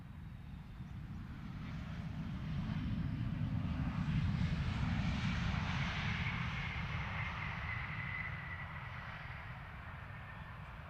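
A Ryanair airliner takes off at Luton Airport in the evening, a broad engine roar that swells to a peak at mid-clip and then slowly recedes into the distance, with no talk over it.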